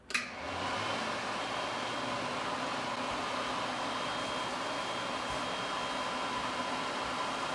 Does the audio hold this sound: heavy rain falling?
no